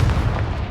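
A Confringo blasting spell in Hogwarts Legacy erupts as a loud, low, rumbling explosion that fills the short moment without letting up.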